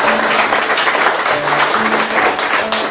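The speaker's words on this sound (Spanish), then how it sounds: "Esas palmas, hermanos." Applause from guests at a church wedding ceremony in Pomacocha, Peru, a dense, steady wash of clapping that fills the whole moment at close range with no talk over it.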